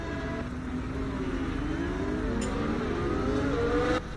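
Several race cars on a formation lap in a racing video game, with engine drones rising and falling in pitch, steady and continuous, ending with a brief shift near the close.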